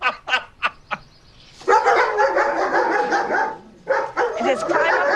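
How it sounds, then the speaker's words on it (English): Dogs kept in kennels on a farm, several sharp barks first, then a longer burst of overlapping barking and yipping, close and loud, with a short pause before more barking. "What are all those dogs doing in kennels?"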